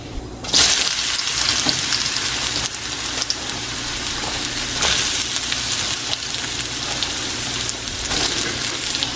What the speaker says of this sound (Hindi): उसमें मैं थोड़ा सा जीरा ऐड करूंगी एंड अब इसमें बस आलू ऐड करूंगी।